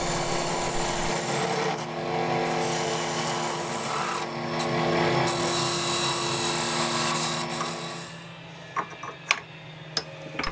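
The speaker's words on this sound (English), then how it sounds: "Next I create shoulder for the base to fit into and hollow out a space for the rings." A walnut ring box is hollowed on a lathe, with a steady whirring hum and scraping tool noise. Toward the end come a few sharper knocks and taps. No one speaks.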